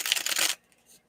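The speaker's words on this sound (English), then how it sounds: "I'm going to get back here and shuffle." Tarot cards riffle and shuffle in a quick papery burst for about half a second, close and fairly loud, then go quiet.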